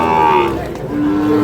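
Cattle at a rural calf market in Bangladesh, Sahiwal-breed bull calves among them, give two long, loud moos close by, the second lower and steadier, with crowd murmur faintly behind.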